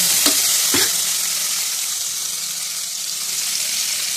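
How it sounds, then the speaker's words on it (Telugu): Chopped tomatoes sizzle and fry in a hot pan while being stirred for a vegetable biryani, with two brief scraping stirs early on over a constant loud hiss. "ఇది అయిన తర్వాత టమాటా కూడా వేసుకోండి. ఇది కలిపెట్టండి బాగా."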